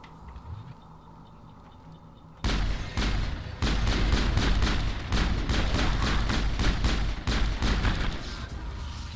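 Pistol and assault rifle fire in Mass Effect: after a quiet start comes sustained loud gunfire, with rapid bursts of sharp shots repeating densely in quick succession.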